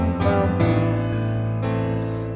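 Piano chords, a few sustained chords struck one after another at a slow, steady pace, close and clear with no talking.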